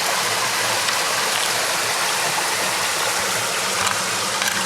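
Excess water poured out of a gold panning bucket into a river, a steady broadband gush and splash running continuously throughout with no voices.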